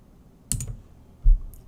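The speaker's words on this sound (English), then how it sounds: "hit the return key on your keyboard to take you right there" A return key pressed on a computer keyboard gives a clear, close click, followed about three-quarters of a second later by a second, heavier thump of the key, with no voice.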